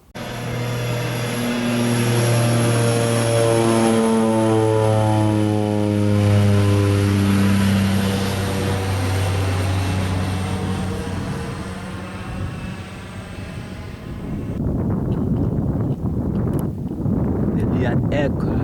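An aircraft at Argyle International Airport, close and loud, with a strong droning engine tone whose pitch slowly sweeps and shifts, then gives way to rougher, broadband wind-blown engine noise near the end.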